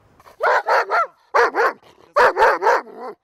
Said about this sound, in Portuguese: Eu estou falando do cão de polícia.